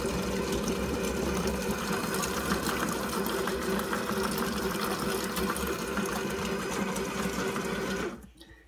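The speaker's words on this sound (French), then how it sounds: "On va mixer nos tomates." A Companion food processor at speed 7 whirs loudly and steadily while blending tomatoes, a dense churning motor drone that cuts off abruptly near the end.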